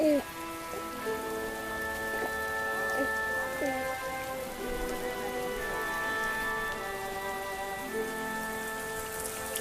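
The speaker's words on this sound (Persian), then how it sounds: "باران بر فدان نازل نموده" Steady rain falls throughout as a sound effect in an audio drama, a continuous patter beneath sustained musical tones and faint voices.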